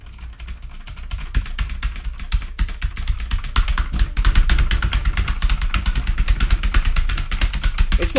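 Computer keyboard keys pressed rapidly and repeatedly while trying to control the game Nótt & Dagr, a dense, busy clatter of typing that grows louder and more frantic partway through, with no talking.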